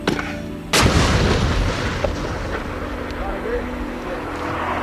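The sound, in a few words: artillery fire from British Marines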